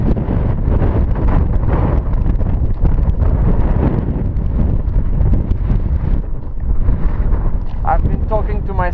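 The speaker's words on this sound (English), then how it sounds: "The wind is so strong." Strong wind buffeting a microphone on the summit of Mont Mezenc, loud continuous low roaring gusts throughout, with a voice briefly audible near the end.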